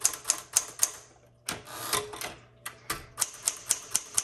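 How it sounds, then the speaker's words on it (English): Crisp keystrokes clack on a 1960s Galaxie II manual typewriter, repainted cherry red, in quick, even bursts with brief pauses between runs, close and distinct. "this one is like a go-getter typewriter. It's like bam, bam, bam."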